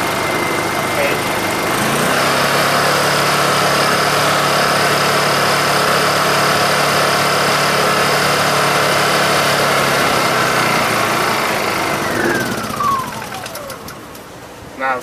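A Honda EU2000i generator engine runs steadily and loud, treated with carb cleaner, with a constant idle-like hum throughout before the revs fall away near the end; a voice talks over it.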